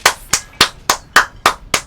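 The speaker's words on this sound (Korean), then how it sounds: "와 박수" Seven crisp hand claps land in an even, steady rhythm, loud and close, with nothing else around them.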